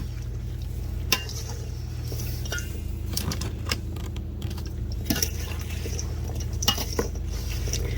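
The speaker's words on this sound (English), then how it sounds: "And so now I'm just stirring to combine." Spoon stirring a chickpea salad dressed with tahini and maple syrup in a bowl, a steady scraping and soft clinking that runs continuously and close, with a few sharper knocks.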